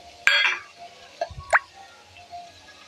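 Chopped onion, green chilli and carrot dropping into a pan with a little oil, giving a few quick separate plops and a short sizzle-like burst, close and fairly quiet.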